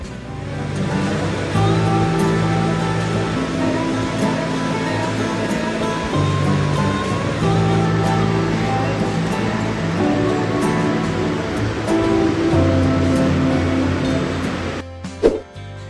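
Loud, continuous rushing water roars steadily throughout, a dense churning wash of turbulent river flow with no voices.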